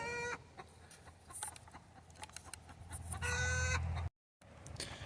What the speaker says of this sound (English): Here's our little chickens.